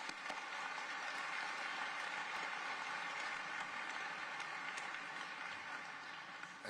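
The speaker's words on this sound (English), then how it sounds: "Let's give the Chief one more round of applause here." A large audience gives sustained applause for Atlanta's new Chief of Police at a swearing-in ceremony, a dense, even wash of clapping that holds steady and fades slightly at the end.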